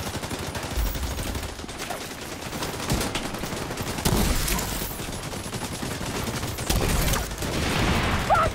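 Sustained, rapid gunfire from several players shooting the boss in The Division 2 Iron Horse Raid, a dense close fusillade of automatic weapons that barely pauses, with little talk.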